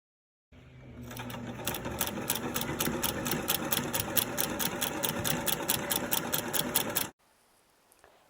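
A sewing machine stay-stitches along the edge of a hand-embroidered huipil fabric pillow, running steadily with a rapid rhythmic needle clatter for about six seconds, then stopping abruptly into quiet room tone.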